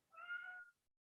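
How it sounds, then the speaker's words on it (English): A house cat gives a single clear meow, short and fairly close, in an otherwise quiet room. "You hear my cat."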